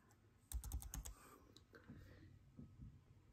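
Several quick keystrokes on a laptop keyboard, with a short cluster of close clicks followed by a few sparser, softer taps, typed into a serial terminal program.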